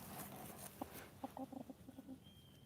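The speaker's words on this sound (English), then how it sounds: "I love that chicken." A chicken gives a short series of soft, clucking calls, quiet and somewhat distant, over low background noise.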